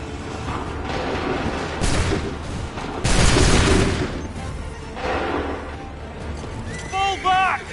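Musket volleys crackle and boom in a battle from Assassin's Creed III Remastered, a few heavy discharges set amid a noisy battlefield din, with shouted commands and voices talking throughout.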